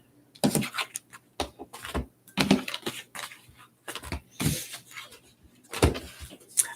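Tarot cards are riffled and shuffled in a series of short, crisp bursts with brief pauses between them, close up.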